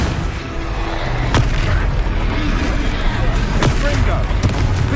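Confringo explosive spell blasts in Hogwarts Legacy during a battle, loud booms over a dense rumbling combat din, with voices speaking throughout.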